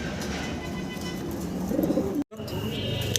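Black Danish fancy pigeons coo in a loft, soft rolling calls sitting close over a low background hum, with a brief dropout near the end.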